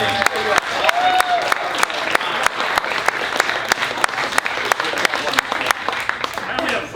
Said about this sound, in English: big round of applause for Bryan Masche